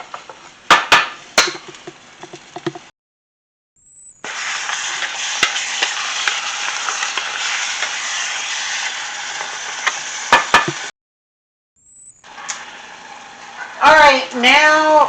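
A pound of ground beef browning in hot oil in a pan: steady sizzling hiss in long stretches, broken by brief silences and a few clanks of stirring, with a voice talking near the end.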